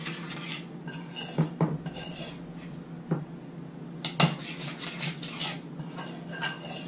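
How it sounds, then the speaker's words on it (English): A spoon scrapes and clinks against a bowl while a mixture of snow is stirred, with irregular metallic taps and rasping swirls, close and fairly quiet, with no talk. "You just stir it up and mix it all up together."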